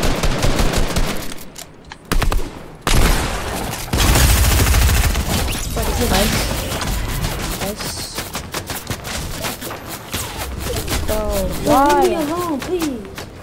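Rapid bursts of gunfire fill a shooting video game, with dense crackling volleys and booms nearly throughout, while players talk and shout excitedly over the shooting.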